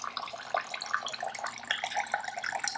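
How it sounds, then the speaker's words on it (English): Water trickles and drips steadily out of freshly washed wool fleece as it is lifted over a sink. The splashing is soft and close, with no voices. "Little bit of the water drain out."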